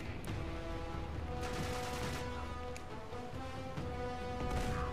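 Rapid gunfire from the video game Uncharted 3, a dense burst of shots and crackling impacts layered over game music, steady and fairly quiet throughout.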